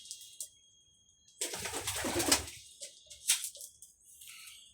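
Soft cooing from small young pigeons and rustling nearby, with brief bursts of fluttering and a few murmuring calls against a quiet background.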